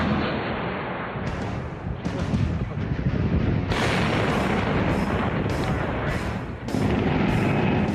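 A mine-clearing line charge detonates during a Marine assault in Iraq, producing a rolling series of heavy, crackling blasts that merge into a continuous roar of rumbling explosions, loud and sustained with distinct bursts every second or so.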